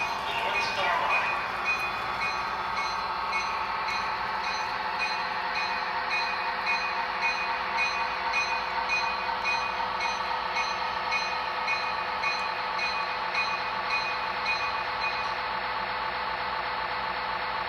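A steady electronic hum and whine from an MTH Metro Transit NorthStar Bombardier model passenger train set running continuously, with layered tones and a brief rattle near the start.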